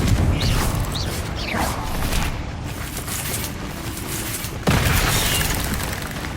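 The Confringo fire spell goes off in Hogwarts Legacy, a loud booming blast with rumbling debris and mechanical creaks. A second sharp burst comes near the end, with no speech over it.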